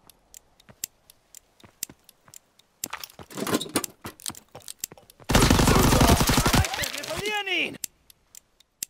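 Machine gun fire from a gun turret in the World War II shooter Call of Duty: WWII: scattered sharp single shots build into a loud, sustained stretch of rapid automatic fire, then trail off into a few isolated cracks.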